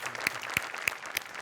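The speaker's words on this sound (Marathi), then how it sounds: "जोरदार टाळ्या" A studio audience at the Marathi comedy show Maharashtrachi Hasya Jatra claps for a stage performance, with sharp, evenly spaced louder hits punctuating the ongoing applause at a brisk, regular beat.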